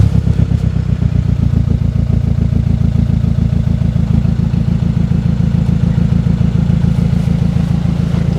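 Volkswagen Caddy with a swapped 1.9 TDI diesel tuned to about 200 horsepower idling after starting, loud rapid rhythmic clatter running steadily and close throughout.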